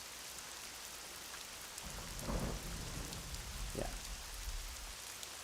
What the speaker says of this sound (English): we'll add a little, this rain thunder queue